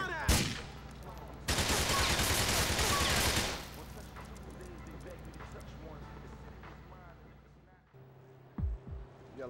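Gunfire in the video game Yakuza 5: a loud sustained burst of rapid automatic shots, then a softer continuous rumble with scattered pops, under shouted game dialogue.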